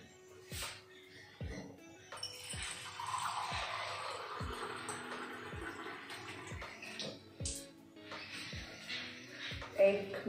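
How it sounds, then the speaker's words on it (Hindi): Water pours from a cup into a cooking pot in a home kitchen, a steady splashing stream lasting several seconds, close and moderately loud, with intermittent knocks and taps around it. "एक भगोना लेंगे और एक कप पानी लेंगे।"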